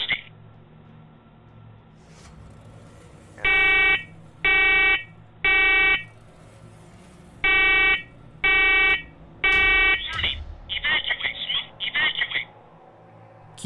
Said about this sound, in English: Carbon monoxide detector.